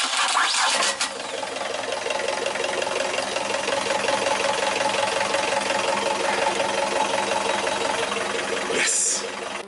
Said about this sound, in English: Motor started.